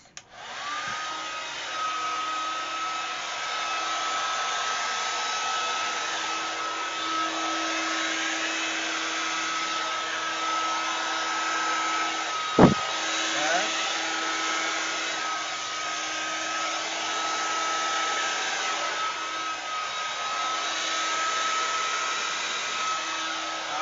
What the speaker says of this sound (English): the hair dryer on video can get kind of loud